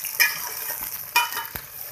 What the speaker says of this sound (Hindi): ये अब हम मिर्चों को फ्राई कर रहे हैं ऑयल में।